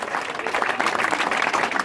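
Audience applause at a cheese and producers' festival in Escot, a steady dense wash of clapping lasting the whole stretch, fairly close and even in level with no talk over it.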